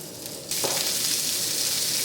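Food sizzling in olive oil in a pan, a loud steady hiss that jumps up abruptly partway through and continues close and constant.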